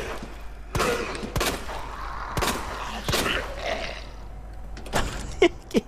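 Sharp, heavy impacts in the Resident Evil 2 Remake game, a door slamming shut amid several abrupt bangs spaced through the stretch, with quieter clatter and faint ambience between them.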